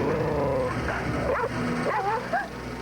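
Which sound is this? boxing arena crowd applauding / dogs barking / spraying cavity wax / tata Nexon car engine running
dogs barking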